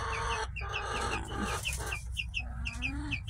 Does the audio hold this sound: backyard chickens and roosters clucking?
yes